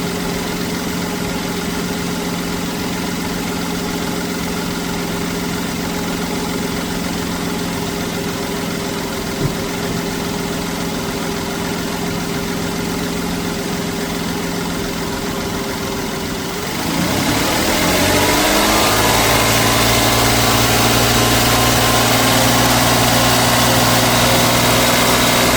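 A 2015 Kia Sedona engine idles steadily, then is revved up to about 2500 RPM and held there, turning louder and higher in pitch. The sound is close and continuous, with no talking.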